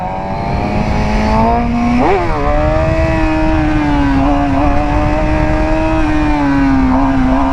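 A Suzuki GSX-R 750 motorcycle being ridden for wheelies gives a loud, close, continuous engine drone that jumps in pitch around two seconds and then holds steady, with wind noise and no talking.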